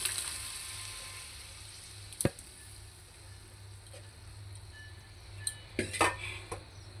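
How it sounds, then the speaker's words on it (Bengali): Pre-boiled lentils (dal) go into a pan of mixed vegetables: faint background hiss with a few sharp metallic clinks of a utensil against the pan, quiet and close, no talking. "এবার আগে থেকে সিদ্ধ করা দিয়ে দিব ডাল।"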